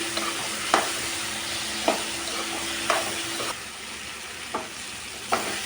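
Ingredients for Andhra-style tamarind chutney frying in hot oil, a steady close sizzle broken by about six sharp scrapes of a spatula stirring at roughly one-second intervals.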